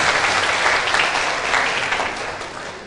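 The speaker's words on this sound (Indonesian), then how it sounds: "Tepuk tangan dulu kita semua" Audience at a dharma talk applauding together, a dense even roar of many hands clapping that holds steady and slowly tapers, with no voices over it.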